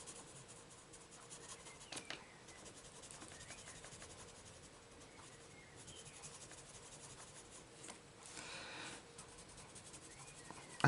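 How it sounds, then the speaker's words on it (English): Soft, steady scratching and rubbing of ARRTX colored pencil strokes on paper, close and quiet, with a few brighter swishes and scrapes along the way. "I just like the sound of certain pencils on paper"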